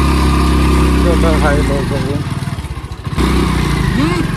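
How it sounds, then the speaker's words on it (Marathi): A motorcycle push-started on a road in Gadchiroli, Maharashtra, its engine running loud and close with a dip and then a sudden return to a steady throbbing rumble while someone talks over it. "फिर से धक्का मार के स्टार्ट।"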